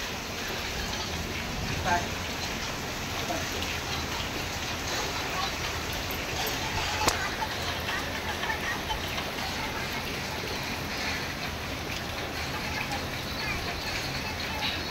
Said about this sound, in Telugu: వాన నిండిపోయింది